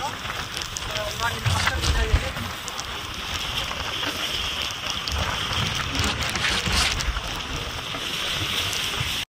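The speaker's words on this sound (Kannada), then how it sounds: "ಬಂದ್ಬಿಟ್ಟಿದೆ ನೀರು ನೋಡಿ, ಹೆವಿ ಫ್ಲೋ." Heavy rushing water roars steadily throughout at Shivanasamudra Falls, a dense broadband wash like a nearby waterfall in heavy flow, with faint voices buried underneath.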